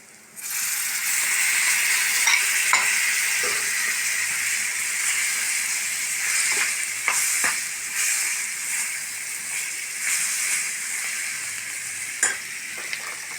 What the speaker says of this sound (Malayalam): നമ്മൾ മഞ്ഞളും ഉപ്പും കുരുമുളകും ഇട്ട് വേവിച്ച് വെച്ച പോർക്ക് നമ്മൾ ഇതിലിടാം